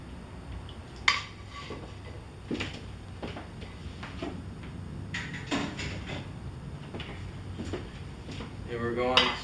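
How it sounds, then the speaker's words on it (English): Poached chicken liquid is strained in a kitchen using a pot and utensils. Metal clinks, clatters and scrapes come at irregular moments over a quiet background, with a busier rattle of pot and utensil near the end. "We'll try to strain it without making too much of a mess."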